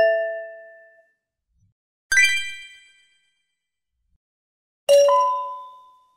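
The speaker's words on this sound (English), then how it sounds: "Say we want a ding for picking up a coin." An AI-generated game sound effect of a ding for picking up a coin, played as three separate bright chimes, each ringing out and fading before the next, alone with no talking.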